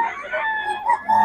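A chicken for sale at a market in Bocaue clucks and crows in short, close, nasal calls.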